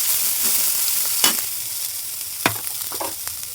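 A steady sizzle of leaves frying in hot oil with mustard seeds, broken by a few sharp clinks and scrapes of stirring.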